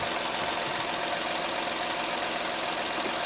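A Honda Pilot engine idles steadily with a broad, even hiss-like drone, up close and without variation, while a charging system fault with low battery voltage is being diagnosed.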